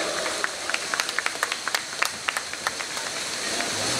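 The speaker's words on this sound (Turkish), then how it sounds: "Alkışlarla yerine uğurluyoruz" Applause at a Turkish poetry evening, a steady wash of many hands clapping with a few crisp individual claps popping out at a regular pace, sustained and even throughout.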